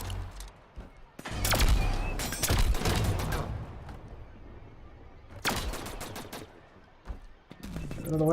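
Gunfire in the video game The Signal From Tolva, dense bursts of shots in two clusters with quieter gaps between, loud and close.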